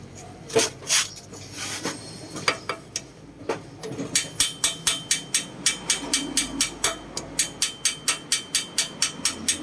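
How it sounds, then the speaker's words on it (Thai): A hammer taps the valve adjusting nut on a Honda MSX engine repeatedly, first a few scattered knocks, then a fast, steady run of sharp, close clicks. "ใช้ค้อนเคาะน็อตตั้งวาล์วให้ขมเมามันหลุดนะครับผม"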